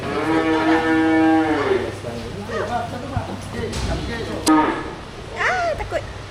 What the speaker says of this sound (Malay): Lembu.